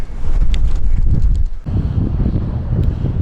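Gusty wind roars loudly across a South Downs hiking trail, heavy low buffeting against the microphone with a brief lull halfway through.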